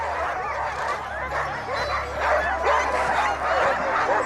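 Sled dogs at the start of the Fjällräven Polar 2019 race bark, yip and whine together in a dense, continuous chorus that stays loud throughout.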